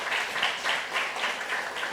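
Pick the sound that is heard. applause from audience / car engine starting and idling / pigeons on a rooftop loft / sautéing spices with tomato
applause from audience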